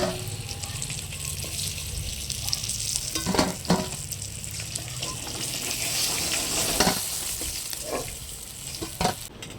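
Catla fish pieces sizzle and crackle in hot oil, a steady close frying hiss broken by several sharp stirring and scraping clicks, with no voices.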